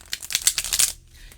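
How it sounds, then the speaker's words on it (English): A Wizard's Tarot card deck is shuffled by hand, giving about a second of rapid, close, crisp card flutter and clicks that stop abruptly, with no talking. "now, let's see how she shuffles"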